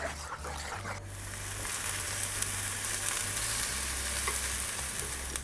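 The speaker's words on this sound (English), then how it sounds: "Give it a good whisk." A chocolate mousse mixture of nut butter, cacao, amaretto and orange zest being whisked, a soft, steady scraping swish over a low background hum, with no voices.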